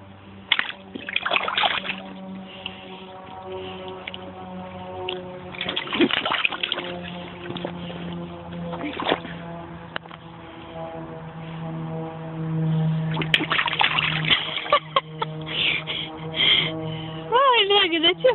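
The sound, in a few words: child splashing in water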